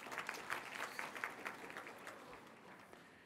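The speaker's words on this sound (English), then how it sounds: "another big round of applause," Audience applause for a choir at a university autumn graduation ceremony, a faint, steady wash of many hands clapping heard from a distance across the hall, with no voices over it.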